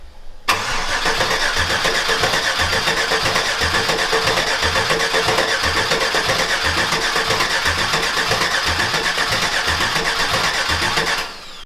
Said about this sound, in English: we're gonna try giving it a crank